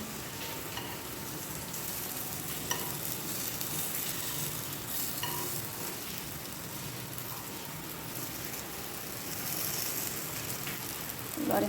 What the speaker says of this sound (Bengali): তেল দিয়েছি পটল আর এইটা ভাজবো